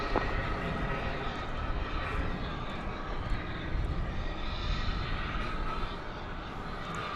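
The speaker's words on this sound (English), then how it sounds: "Alaska Airlines flight number 381 from Seattle" An Alaska Airlines airliner at DFW Airport gives off a continuous loud jet roar, fairly even throughout and easing a little toward the end, with a voice speaking faintly beneath it.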